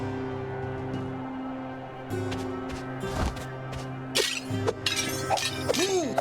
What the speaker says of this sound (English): You really smashed those objects!